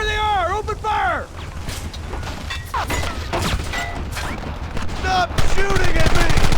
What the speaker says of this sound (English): There they are! Open fire!